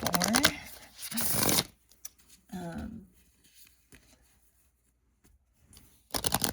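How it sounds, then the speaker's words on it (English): Oracle cards are shuffled in hand, making dense, riffling bursts at the start and again at the end, with a person talking quietly in between. "All right, let's give it one more shuffle."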